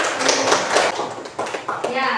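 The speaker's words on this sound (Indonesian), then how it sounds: "Kita berikan tepuk tangan." Applause in a classroom during a mathematics lesson, a short burst of quick, uneven hand claps from a group, with children's voices mixing in and the clapping fading and returning.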